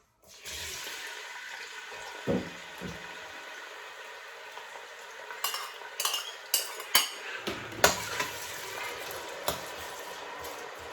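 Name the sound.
onion frying in oil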